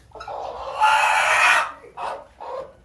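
Chickens cluck and squawk nearby, one long rising burst followed by two shorter clucks, loud and close with no talking.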